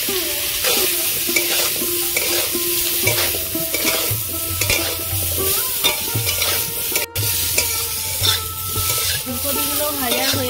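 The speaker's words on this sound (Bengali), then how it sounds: "ওই তেলের মধ্যে আমি ফুলকপিগুলো ভেজে নেব।" Cauliflower florets fry in hot oil left over from frying fish, giving a steady, close sizzle with repeated stirring and scraping throughout and no talking.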